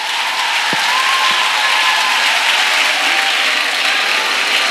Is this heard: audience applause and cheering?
yes